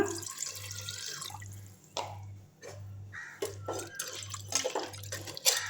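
Water splashes and trickles into a cooking pot in uneven pours and drips, about three cups for rice, over a steady low hum, fairly faint.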